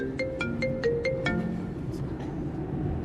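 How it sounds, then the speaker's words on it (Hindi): A mobile phone rings with an incoming call from an uncle: a bright melodic ringtone of quick repeated tonal notes, close and clear, then trailing off into quieter background. "मामू की कॉल आ रही है।"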